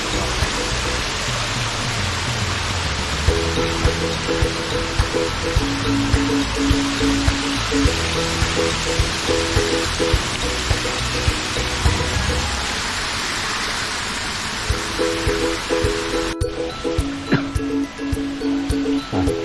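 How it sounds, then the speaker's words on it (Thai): Rushing water from a waterfall beside a scenic hillside restaurant in Nong Khai: a loud, steady hiss that fills the whole stretch, with faint tonal sounds beneath it. "น้ำตก"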